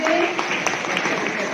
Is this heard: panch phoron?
no